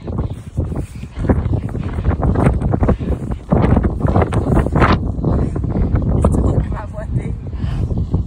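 Strong wind blowing hard outdoors, a steady loud roar and buffeting against the microphone throughout, with voices talking over it.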